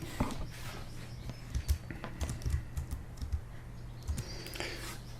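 Quiet, rapid tapping of Bluetooth computer keyboard keys, irregular clicks in quick bursts against a low background hum.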